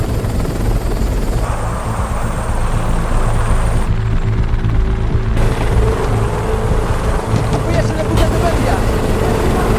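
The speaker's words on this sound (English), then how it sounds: "On their way, 2 helicopters surround the security vans." Loud, steady roar of two helicopters' rotors fills the scene throughout, a constant low thrum with heavy engine noise and no pauses.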